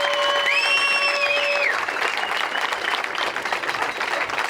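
An audience at a mountain-bike brand's brunch and Q&A with riders applauds warmly. Dense, sustained clapping fills the room, and a rising whistle or cheer sounds over it at the start.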